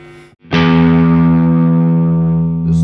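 An electric guitar on its single-coil pickup rings out a loud sustained distorted chord that slowly decays, with a steady low electrical hum underneath before and after the strum.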